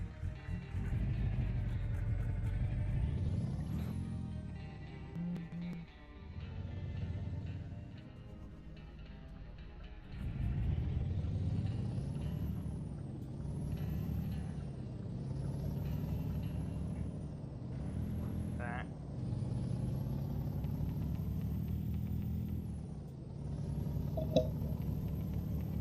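A truck in American Truck Simulator pulls away: a deep diesel engine rumble rises and falls through gear changes with whining pitch sweeps, plus a brief air-brake hiss near the start, all without talk.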